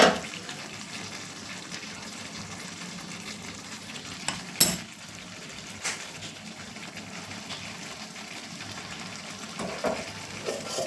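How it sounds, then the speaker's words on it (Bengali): Potatoes and curry sauté in a pan, giving a continuous close sizzle and frying hiss with occasional scraping stir clatters, and no talking. "ঠিক আছে, এখন কষাবো।"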